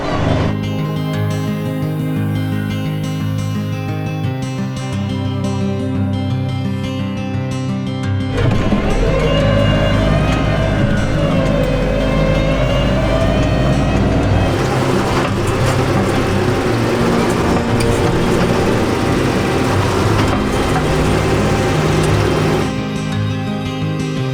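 A heavy tractor engine runs steadily and close by on a farm during a sugar beet harvest, its low rumble holding an even pitch with a slight rise in revving partway through.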